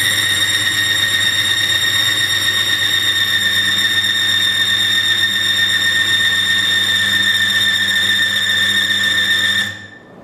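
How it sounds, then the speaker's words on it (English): Metal rod screeching under load in a friction test as its lubricating oil fails, a loud steady high-pitched squeal with sharp harmonic tones and a low hum beneath, lasting throughout and cutting off abruptly near the end. "Listen for the screeching sound indicating that the lubricating oil is not able to provide"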